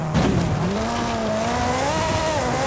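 A Ferrari in the racing game Forza Horizon 5 holds a loud, steady engine note that climbs and wavers in pitch, with a hint of tire squeal, heard alone without talk.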